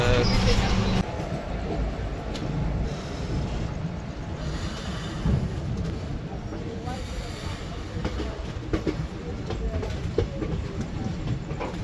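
Kanchanjungha Express with ICF coaches rolling along, a steady rumble with clickety-clack from the wheels and a voice talking over the running noise throughout.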